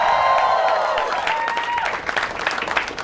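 Applause break from an audience at a comedy quiz show, a dense wash of clapping that holds steady for about three seconds, with a faint whoop or voice rising through it.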